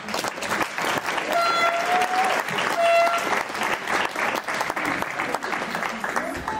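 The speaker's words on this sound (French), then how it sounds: "Mesdames, messieurs, applaudissez cette dame." Wedding guests at an evening dance party in Villers Saint Paul applaud a woman, sustained dense clapping from a room full of people, with a voice talking over it and brief music tones.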